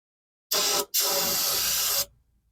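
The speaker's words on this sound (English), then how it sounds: "Chucky's gonna use some brake parts cleaner. He's gonna clean around that seal with the brush." Brake parts cleaner is sprayed around a leaking rear axle seal on a 2008 Ford Mustang: a short aerosol burst, then a longer steady hiss of about a second, loud and close with no talking.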